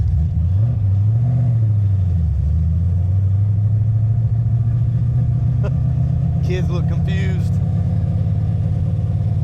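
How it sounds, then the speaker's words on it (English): A Ford-engined car with a choppy cam rolls along in second gear, its low engine rumble pulsing unevenly and close, with someone speaking briefly over it. "So you can still hear the cam chopping on up there, but we're in second gear."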